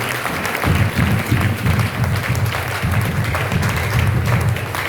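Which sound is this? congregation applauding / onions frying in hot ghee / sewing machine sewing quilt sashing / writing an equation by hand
congregation applauding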